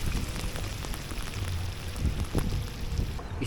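Rain falling during a typhoon while fishing outdoors, a steady dense hiss of drops with low wind rumble and occasional louder splashes, continuous and fairly quiet.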